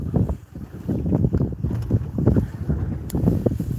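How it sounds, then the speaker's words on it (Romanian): Strong, gusting wind buffets the microphone on a fishing boat on Lake Isac in the Danube Delta, a low, uneven roar that swells and dips throughout with no talking. "Bate vântul foarte tare"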